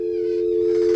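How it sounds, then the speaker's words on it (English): A steady electronic phone-line tone like a ringtone, one unbroken pitch holding loud and even for about a second, heard alone. "Steve, you sound like a ringtone"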